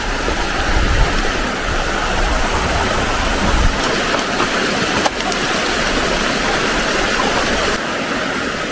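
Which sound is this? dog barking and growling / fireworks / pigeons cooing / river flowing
river flowing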